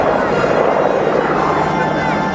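A P-38 Lightning with twin 1300-horsepower Allison engines roars loudly and steadily at a 2013 airshow at La Ferté-Alais, a broad continuous engine drone with no breaks.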